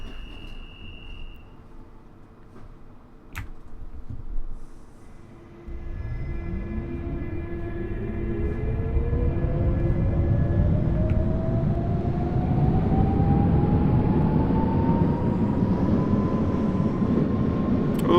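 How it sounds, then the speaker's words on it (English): A London Underground Central Line 1992 Stock train in the Open.BVE simulator pulls away, its motor whine rising steadily in pitch over a swelling rumble of wheels, loud and continuous after a brief door chime at the start. "This train's ready to depart."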